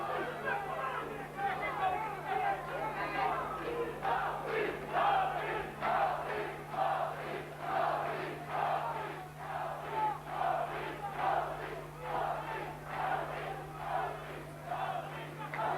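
Boxing arena crowd at a heavyweight bout chanting for Jean Chanet in steady rhythmic pulses, a dense roar of many voices rising and falling roughly every second, with a low steady hum underneath.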